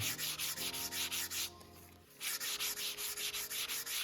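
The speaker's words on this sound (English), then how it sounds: "I'll just knock this roughness off with a piece of sandpaper here" Sandpaper rubbed by hand along the rough edge of a leather belt, a steady series of loud back-and-forth scratchy strokes with a short quiet pause midway before the rhythm resumes.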